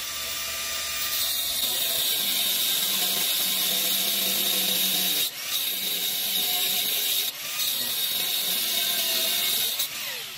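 A diamond cutting blade slices through quarter-inch steel angle iron, a steady loud high-pitched grinding whine running continuously, with brief dips as the cut shifts.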